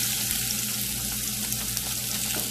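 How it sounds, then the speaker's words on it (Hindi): Prawns frying in oil in a pan, a loud, even, crackling sizzle filling the whole stretch without pause, close up and with no voices. "इसे एक दो मिनट ऐसे ही फ्राई कर लेते हैं ताकि इसकी जो स्मेल है वो निकल जाए"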